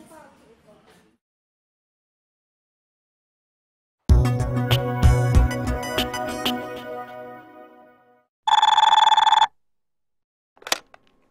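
A telephone bell rings loudly and steadily for about four seconds, then a shorter electronic tone sounds, followed by a brief click; faint voices murmur at the very start.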